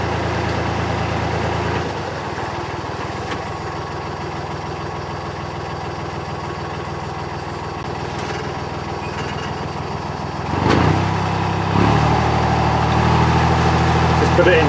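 Steady low narrowboat engine drone runs throughout while the boat turns at a canal junction in winter, rising briefly in loudness and pitch near the end as the throttle changes.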